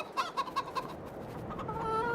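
Chickens in a shed in Farming Simulator 22 give a run of soft, rhythmic clucks, then a longer drawn-out call, fairly quiet and close with no talk.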